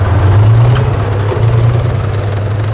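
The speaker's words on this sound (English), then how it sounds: "These field recordings include tank engines grinding and roaring to life," A military tank engine idles with a heavy, loud low-pitched rumble, swelling briefly twice in a rough, continuous drone with no voices.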